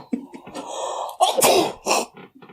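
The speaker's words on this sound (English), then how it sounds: "I'm going to sneeze." A single loud, close sneeze bursts out midway, with a sharp explosive release after a brief breathy build-up and some quieter noises around it.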